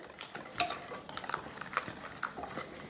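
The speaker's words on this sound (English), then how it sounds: "And with the whisk, just give that a stir" Wire whisk stirring mayonnaise in a bowl for a dill dip, giving soft scraping swishes with a few light clinks against the bowl, close and fairly quiet with no talking.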